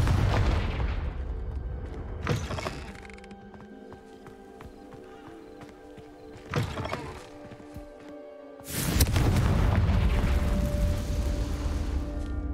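Hogwarts Legacy spell effects in an indoor setting, with several booming bursts spaced apart over lingering tonal hum and debris noise, ending in a loud, sustained roaring blast that fills the final seconds.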